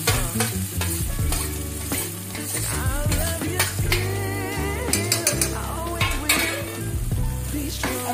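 Potatoes go into onions frying in a pan, a loud continuous sizzle with stirring and scraping of utensils against the pan, no talk.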